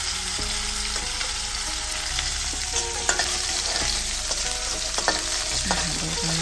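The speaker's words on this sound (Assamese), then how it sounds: "তেলত ফ্ৰাই কৰি ল'ম নহৰু আৰু কেঁচা জলকীয়া" Garlic and green chillies fry in hot oil with a loud, dense, continuous sizzle and crackle, punctuated by spatula scrapes and taps against the pan, close up, with no voices.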